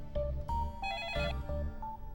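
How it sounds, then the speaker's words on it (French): A telephone rings in a home, repeated electronic ringtone bursts in a steady pulsing rhythm, close and clear with no talk over them. "Je vais répondre au téléphone."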